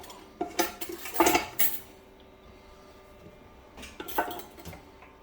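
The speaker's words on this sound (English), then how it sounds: "Let's grab the tongs here because that's a little warm." Metal tongs clanking against a warm pan, a few bright scraping clinks in a short burst, then quiet, then another brief clatter; close and moderately faint, with no voices.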